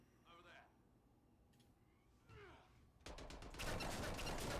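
Enemy gunfire in the video game Anthem bursts in loudly as a rapid, sustained volley after a stretch of quieter game sounds and a voice.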